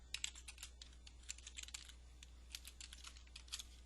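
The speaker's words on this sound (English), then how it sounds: "I'm just typing that in so you'll see what it'll look like." Rapid, uneven keystrokes on a computer keyboard while entering contract billing data in office software, clicking in quick bursts with short pauses, close and fairly quiet.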